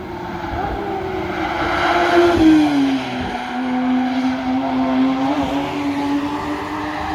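Porsche Cayman GT4 Touring passing nearby, its engine swelling as it approaches and then settling into a sustained drone as it pulls away, with tire noise underneath.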